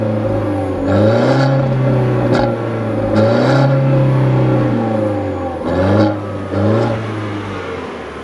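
A 2014 Fiat 500L's 1.4 liter turbocharged engine accelerates through several gears, its hum climbing in pitch, dropping at each shift and climbing again, heard from inside the car with no talking.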